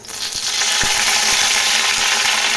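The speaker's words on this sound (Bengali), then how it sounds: "এরপর তেলটা গরম হয়ে গেলে এখানে দুটো শুকনো লঙ্কা, কয়েকটি কারি পাতা," Dry red chillies and curry leaves sizzle in hot mustard oil in a kadai, a loud, steady crackling hiss with a few sharp pops close up, and no talking.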